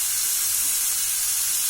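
Steady, loud sizzle of small fish, potato, tomato, onion, garlic and ginger paste cooking in an oiled wok, a constant dense hiss with no talk.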